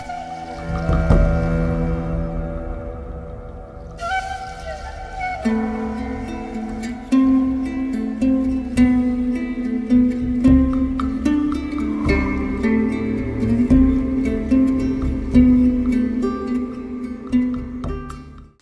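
Water from a mountain stream on Ballahelagala fills a container, a steady resonant gurgle with hollow ringing tones and small drips throughout, close and fairly loud with no talking.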